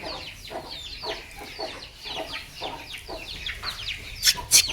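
Three hens with their small chicks cluck in a farmyard: a run of soft, repeated clucks and short calls at close range, with a few sharper chirps near the end.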